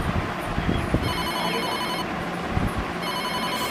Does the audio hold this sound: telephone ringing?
yes